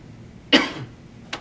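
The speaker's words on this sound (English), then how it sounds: "a boy sat beside him with a cough that sounded an awful lot like tuberculosis" A boy's harsh, chesty cough sounding like tuberculosis: one sharp burst fading over about a quarter second, then a second brief cough starting near the end, nearby against a quiet room.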